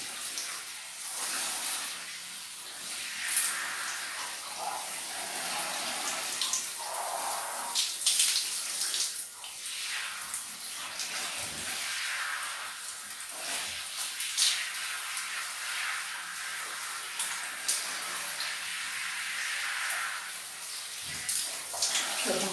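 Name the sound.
water running while bathing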